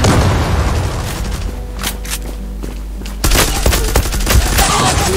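Gunfire in the online shooter game Zula comes as loud bursts of shots with heavy booms, a quieter stretch of rhythmic clicking in the middle, then a renewed dense volley.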